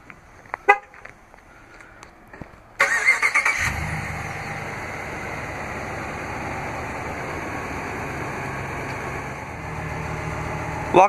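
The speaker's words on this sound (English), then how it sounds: "Just double press the remote start button on the key fob." A 2016 RAM 1500 pickup sounds two short horn chirps for its remote start, then the engine turns over and settles into a steady idle close by, with no voices.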